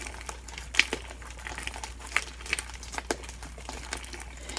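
Homemade slime being kneaded by hand with Tide detergent mixed in, soft sticky squelching and crinkling sounds in an irregular rhythm, close and fairly quiet.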